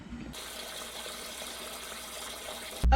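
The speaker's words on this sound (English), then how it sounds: "Do you want me to get the hose and start putting some water in it?" Water gushes steadily from a garden hose into a container, a constant loud rushing that runs for nearly three seconds and ends in a short thump.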